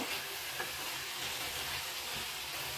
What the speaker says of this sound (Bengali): এই যে মাছটা দিয়ে নিলাম, দিয়ে একটু ভালো করে নেড়ে চেড়ে মিশিয়ে দিব।